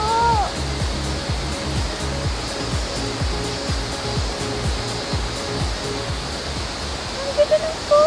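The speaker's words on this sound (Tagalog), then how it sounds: "Ang ganda ng falls." A waterfall pours in a steady loud broadband rush close by in drizzly weather, continuous throughout with a few brief high squeaks near the end.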